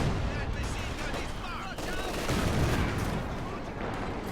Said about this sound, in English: now coming under LMG fire, and here comes a Maxim as well